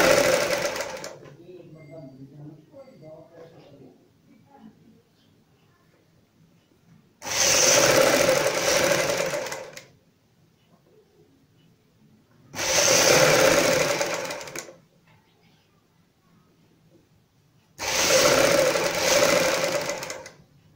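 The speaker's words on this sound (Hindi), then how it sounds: "यहाँ पे हम किनारी की सिलाई लगाएंगे।" Sewing machine stitching the edge of a kurti, running in three short loud bursts separated by pauses, with quiet rustling of fabric between runs.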